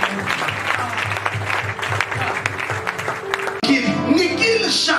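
Congregation applauding at a church service, a steady wash of clapping from many hands mixed with voices, growing louder and brighter near the end.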